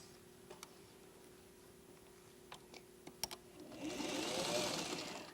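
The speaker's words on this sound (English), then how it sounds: "once you have machine sewn this, let me go ahead and sew it" Sewing machine stitching a quilt seam, starting with scattered faint clicks and taps before a brief, close whirring run of stitching near the end, with no talking.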